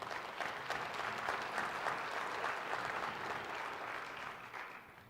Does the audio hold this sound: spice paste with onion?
no